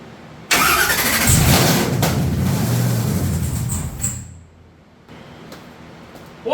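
A race truck engine starts up with a sudden loud catch and runs rough and strong for several seconds before cutting out, leaving quiet until a sharp jolt at the end.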